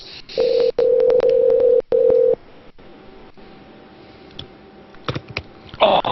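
Telephone dialing tones from a phone line: three long steady tones separated by brief gaps, then a quieter stretch with faint clicks and a short burst of higher beeps near the end, fairly close and without speech.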